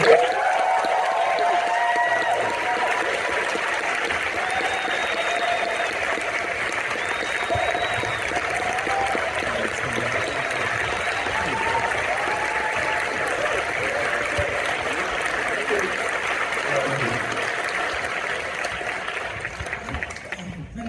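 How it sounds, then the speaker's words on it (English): Sustained audience applause at the Rebel Ridge movie premiere, a broad even wash of clapping from a large crowd with some voices and cheers mixed in, continuing for about twenty seconds before tailing off. "if we can also give a huge round of applause to the writer, the director, and the editor of Rebel Ridge, Mr. Jeremy Saulnier."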